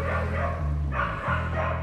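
Dog barks and yips sound close by over a steady low hum, a few short calls rising and dipping across the moment, with no talk.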